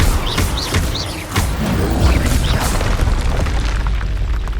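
A Bombarda blasting spell in the video game Hogwarts Legacy erupts in a loud, sustained booming rumble with several sharp bursts layered on top, filling the whole stretch without pause.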